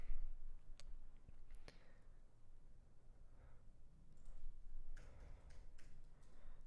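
One-handed typing on a computer keyboard: sparse, irregular clicks and taps, faint and spread out, with a few sharper keystrokes and no talking.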